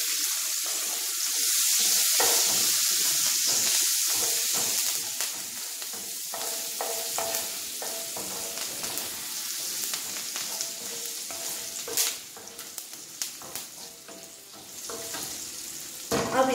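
Chopped green chilies stir-fry in a pan with a steady bright sizzle, broken by scraping spatula strokes and clinks that grow more frequent as the frying settles.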